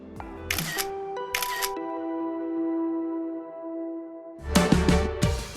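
A camera shutter clicks in two quick bursts while a selfie is taken, followed by another cluster of shutter noise after a lingering tonal hum.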